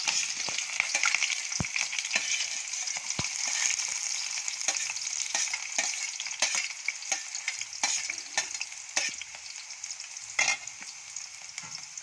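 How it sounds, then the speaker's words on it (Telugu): Onions fry in hot oil for a chicken curry, a continuous bright sizzle broken by frequent spatula scrapes and stirring strokes, close and fairly loud. "ఆనియన్స్ వేసుకోండి, ఆయిల్ హీట్ ఎక్కాక."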